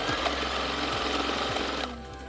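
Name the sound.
sewing the long side of a fabric face mask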